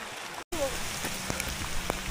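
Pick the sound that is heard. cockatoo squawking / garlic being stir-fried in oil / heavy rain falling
heavy rain falling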